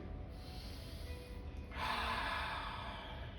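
A slow breath drawn during a held yoga pose, a soft airy rush that swells louder midway and carries on steadily, close and alone with no talking.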